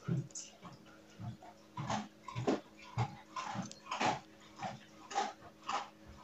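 A dog crunching dry kibble at home, a steady run of close, crisp chewing bursts roughly every half second, with soft background hum between bites.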